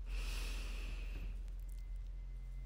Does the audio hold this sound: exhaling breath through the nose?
yes